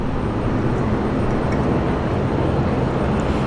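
A Qantas jet taking off from runway 19 left at Brisbane Airport produces a loud, continuous broadband engine roar, steady and close throughout.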